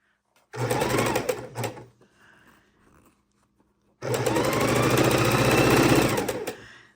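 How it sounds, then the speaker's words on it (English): A sewing machine stitching scrap fabric quilt blocks together, running in two close, loud bursts of rapid steady whirring, separated by a short pause with faint handling noise. "We want to keep sewing our blocks together into their rows."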